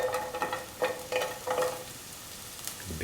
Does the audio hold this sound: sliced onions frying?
yes